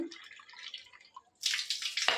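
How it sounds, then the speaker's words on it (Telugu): Bore-well water from a household tap runs into a cup, first a soft trickle and then a louder rush of pouring water up close, with no one speaking. "ఈ 3వ కప్లో వచ్చేసి బోర్ కనెక్షన్ నుంచి వచ్చే వాటర్ తీసుకుంటున్నాను"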